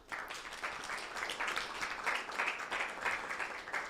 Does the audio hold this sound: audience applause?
yes